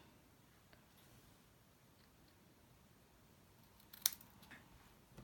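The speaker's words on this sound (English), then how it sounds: "Just snip it off about there, we don't need that bit." Scissors snip off the end of a piece of card while making snowflake Christmas cards, a single sharp cut near the four-second mark in an otherwise quiet room.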